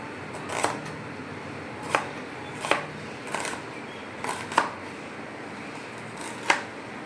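Knife cutting onions for crispy Bengali peyaji on a board, a sparse series of about eight sharp, separate chops with pauses between them, close and clear over a quiet background.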